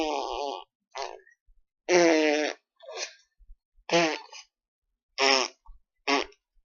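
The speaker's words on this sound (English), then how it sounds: "My daughter likes to fart." A baby daughter lets out a series of about six short, buzzy farts, close and clear, separated by brief silences.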